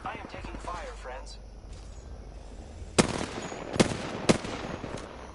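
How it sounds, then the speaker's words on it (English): Apex Legends gunfire: a few sharp, loud shots at distinct moments over steady game background noise, with a voice speaking near the start. "I am taking fire, friends."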